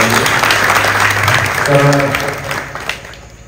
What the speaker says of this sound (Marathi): एवढे कलाकार मंडळी सुंदर गात आहेत, एकदा जोरदार टाळ्या त्यांच्यासाठी